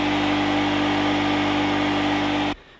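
An air compressor runs loud and steady to inflate tires, a constant droning hum that cuts off abruptly at the end.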